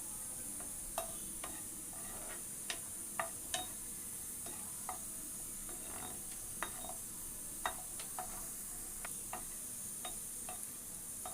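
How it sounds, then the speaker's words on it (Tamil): Nine cashews fry in hot oil for brinji rice, giving a steady close sizzle scattered with sharp little pops and crackles, with no talk. "நான் ஒரு 9 முந்திரி எண்ணெயில் போட்டு வறுத்துக்கிறேன்"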